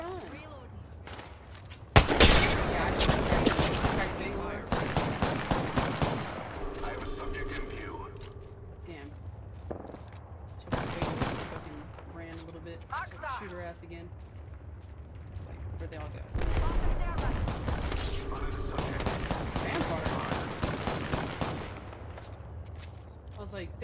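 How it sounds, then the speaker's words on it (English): Video game gunfire aimed at the player, using an RE-45 pistol: bursts of rapid shots and booming impacts come in loud clusters across the scene, with a player talking over the combat. "They're shooting at me."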